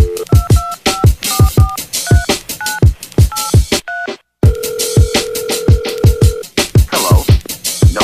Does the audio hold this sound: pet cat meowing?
no